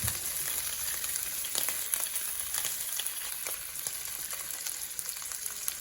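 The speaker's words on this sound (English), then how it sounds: "So now I have to roast my meat a little bit, just to brown it, and I'm going to add cooking oil." Beef browns in hot cooking oil for a Zimbabwean beef and covo dish, producing a dense, continuous sizzle with faint crackles and occasional stirring, close and steady, with no one speaking.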